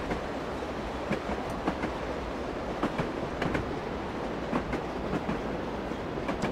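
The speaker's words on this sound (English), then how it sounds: "How long is that choo-choo train?" A very long train rolls past steadily, with continuous rumble and repeated clickety-clack of wheels over rail joints, moderately distant and unbroken by speech.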